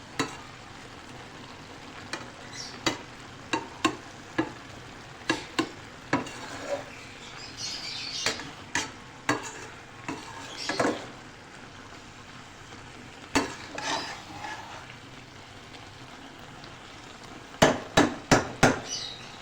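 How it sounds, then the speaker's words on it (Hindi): Chicken and turnip stir-fried over high heat in a pan, a steady low sizzle under repeated sharp scrapes and knocks of a spatula against the pan. The strikes come irregularly and end with a quick cluster of four hits. "इसकी तेज़ आंच पे भुनाई करेंगे तकरीबन 4 से 5 मिनट तक।"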